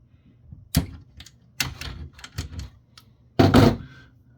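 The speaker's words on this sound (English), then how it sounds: "Get this USB cable cut loose." A USB cable snipped loose during a teardown of a Crestron MPS-200 multimedia presentation system, several close, dry clicks and snaps of cutters and handled parts with short pauses between, ending in a louder crunchy burst.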